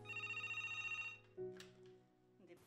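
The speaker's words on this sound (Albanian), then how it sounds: "Këtu, telefoni nuk pushon asnjëherë." A telephone rings at an emergency medical centre in Pristina, its electronic warble pulsing steadily and fairly loud, then breaking off and giving way to a second, lower ringtone tone that starts and repeats near the end; no one talks.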